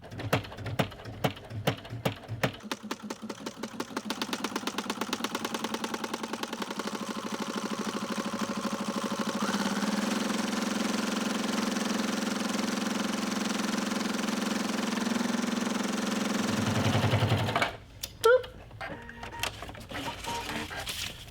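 A sewing machine with a denim needle stitches thick Kraft-Tex at a stitch length of 3, starting with a few slow separate stitches, then running in a steady fast whir before stopping.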